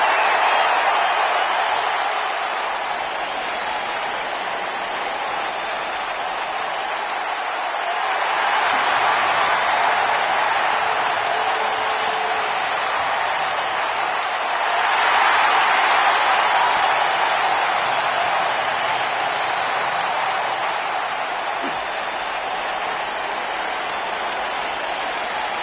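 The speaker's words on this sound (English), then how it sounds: "We've got an animated crowd here tonight," Arena crowd in the WWE 2K19 wrestling video game, a steady roar of cheering and applause that swells twice, with no talk over it.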